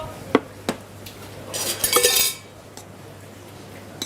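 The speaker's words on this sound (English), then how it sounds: "the last bit is just toss that pasta or stir it with a wooden spoon" Spaghetti alla puttanesca tossed with a wooden spoon in a metal pan: a few sharp clinks, then a brief rush of scraping and stirring, followed by faint light taps.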